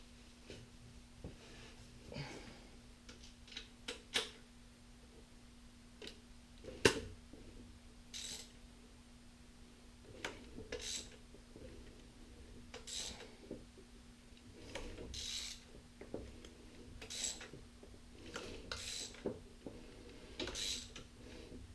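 A Mini Cooper S R56 crankshaft turned by hand with a ratchet during timing chain work, giving scattered quiet clicks and mechanical knocks spread irregularly over a low steady hum, with no talking.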